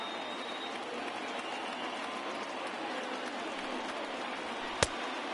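A stadium crowd in the baseball game MLB The Show 20 makes a steady, dense roar throughout, with a sharp crack near the end and commentary faintly present beneath it.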